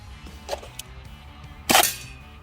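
A firearm fires a single round after a magazine is swapped and the bolt sent home: one loud sharp report about two-thirds through, preceded by faint mechanical clicks.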